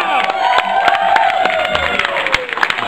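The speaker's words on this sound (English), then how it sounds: "Give a round of applause to them." Audience applause and cheering for a band during a live concert performance, a dense crowd of clapping with whoops and voices over lingering music, steady and loud throughout.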